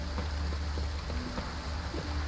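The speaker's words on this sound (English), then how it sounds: "Rain again." Steady rain falling in The Witcher 3 video game, a constant dense patter of drops on surfaces with a low rumbling bed, even and moderately loud throughout.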